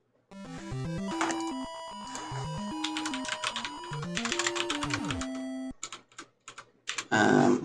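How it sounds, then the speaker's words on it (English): Computer keyboard keys clatter in quick, uneven bursts as a message is typed, following a stretch of chiptune-style Mario game music that stops partway through. "I'm typing a message to a friend here"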